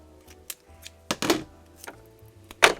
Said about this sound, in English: so let's cut the tape